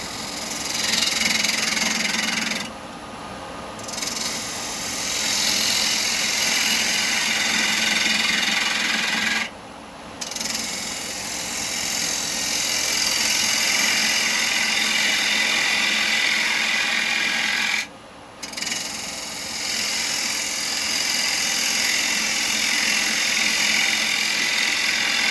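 A wood lathe spins a large segmented lidded sweet jar while a square chisel cuts, a steady close whirring hum broken by three short pauses where the tool lifts off, with no speech.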